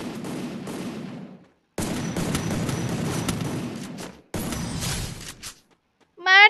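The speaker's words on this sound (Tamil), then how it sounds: "அது இவ்வளோ ஸ்பீடாக ஃபயர் பண்ணுற இவ்வளோ நல்ல ஷார்ட் கன் எடுத்து கொடுத்துருக்க நீ" Shotgun fire in the Free Fire video game, three long bursts of rapid blasts separated by brief silences, loud and close, with a short tonal sound at the end.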